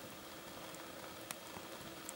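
Rain falling on a campsite shelter on an Algonquin Park trip, a steady soft hiss of drops with a few sharper individual taps, faint and continuous with no talking.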